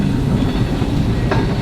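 Montreal and Southern Railway interurban trolley car 9, built in 1911, runs along the track with a steady low rumble and rhythmic wheel clatter, a brief high squeal rising near the end.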